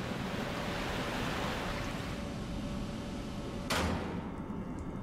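Water drains from a chamber in Lost Odyssey, a steady broad rushing wash that fills the whole clip, broken near the end by a short bright swoosh before it thins out.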